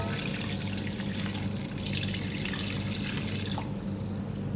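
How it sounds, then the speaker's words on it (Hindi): Yakhni meat stock is poured into a cooking pot for UP-style pulao, a steady, continuous close-up rush of liquid lasting several seconds with no talking. "अब इसमें यखनी शामिल करूँगी।"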